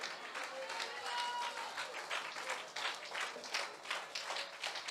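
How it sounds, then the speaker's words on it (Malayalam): Church congregation clapping hands during a conference service, a rhythmic wash of claps that rises and falls, fairly faint, with a voice speaking over it. "കൈയടിക്കുന്നത് വൃത്തിയായിട്ട് അടിക്കണം."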